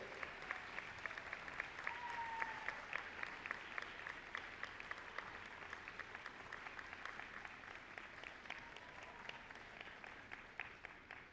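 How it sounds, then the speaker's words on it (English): Audience applause at a nursing graduation convocation, a steady wash of many hands clapping across a large room, moderately distant and fairly even, tapering slightly toward the end with no talk over it. "give a round of applause to all those people who are behind you all the way"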